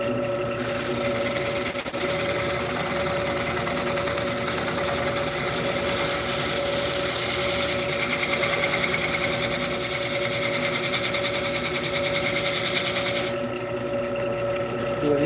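A wood lathe spins a walnut crotch blank while a skew chisel cuts a dovetail, a steady high motor whine with a continuous scraping hiss of the tool on the wood, close and sustained throughout.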